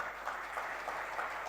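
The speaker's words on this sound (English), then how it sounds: "Have a round of applause for our nominees," Brief, faint, distant applause for nominees at a gadget awards ceremony, a soft steady wash of clapping from a hall audience.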